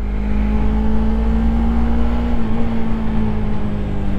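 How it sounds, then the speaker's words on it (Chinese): A Suzuki GSX250R motorcycle engine runs steadily up close, a loud, constant low hum with a slight shift in pitch partway through and no voices. "我们来试试这个引擎在这边震动的感觉啊"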